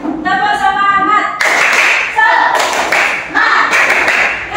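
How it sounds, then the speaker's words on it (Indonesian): Schoolchildren in a classroom perform a spirit clap: bursts of sharp, rhythmic group clapping punctuate loud chanted voices, close and energetic. "tepuk semangat"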